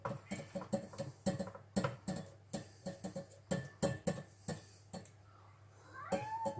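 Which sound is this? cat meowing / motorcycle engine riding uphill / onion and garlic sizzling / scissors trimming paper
cat meowing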